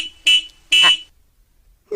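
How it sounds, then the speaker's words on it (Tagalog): Two short, loud beeps from a tricycle horn, close by and separated by a brief gap, followed by silence and the start of a third sound at the end. "Nagpigsa ti busina na."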